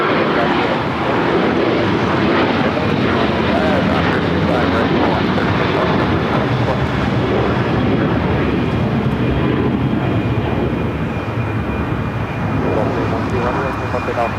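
Airliner in Reno Air special livery taking off at LAX for Chicago O'Hare, a loud sustained engine roar filling the whole stretch, steady and heavy, with voices talking faintly underneath.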